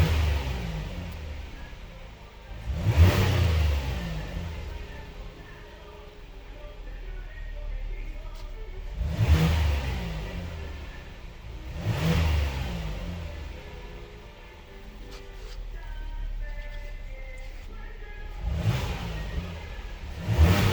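A 2022 Hyundai Palisade engine is snapped through quick throttle blips, giving about five sharp revving bursts a few seconds apart that rise and fall back to a steady idle, close and loud.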